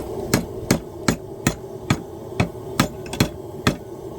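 Hammer blows ring on an anvil while forging tongs from a railroad spike, about ten sharp, evenly spaced metallic strikes close by, roughly every 0.4 seconds, with no talking.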